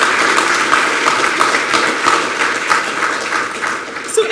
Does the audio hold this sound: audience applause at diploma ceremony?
yes